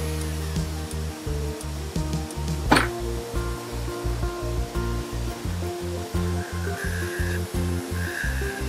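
A rotary tool grinds stippling into a traditional wooden recurve bow riser, a steady whining motor hum broken by short rhythmic pulses of contact, with one sharper scrape near the middle.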